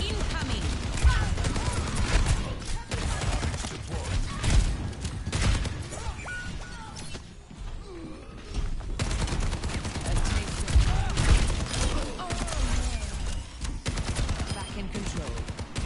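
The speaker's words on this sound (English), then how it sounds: "Rocket barrage incoming." A rapid barrage of rockets fired by Pharah in the hero shooter Overwatch 2, a dense, sustained stream of loud blasts and gunfire-like bursts with a brief lull partway through, amid busy game noise.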